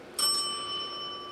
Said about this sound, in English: I've even got my own shameless self-promotion bell